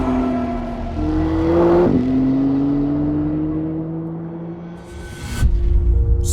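A Maserati MC20 supercar driving fast, its engine note rising and falling in long sweeping pulls with a gearchange shift midway, loud and close, with no talk.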